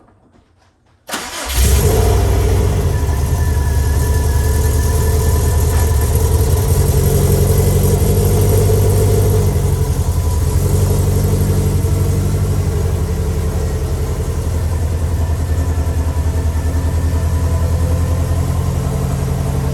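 A Subaru engine starts after a moment of quiet, then settles into a steady, deep idle through an HKS aftermarket exhaust, loud and close, with a rumbling burble holding for the rest of the clip.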